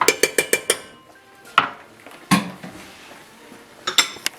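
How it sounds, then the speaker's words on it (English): A metal spoon knocks and scrapes against a pan of mushroom cream sauce with Dijon mustard and paprika, giving a quick run of sharp clinks, then a few scattered taps, fairly close and clear with no talk. "And another little stir."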